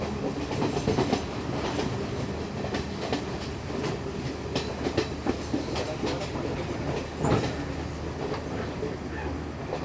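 A steady rolling rumble comes from a passenger train on the Colombo to Kandy line, with repeated rail clicks and occasional louder jolts, heard from inside the moving carriage.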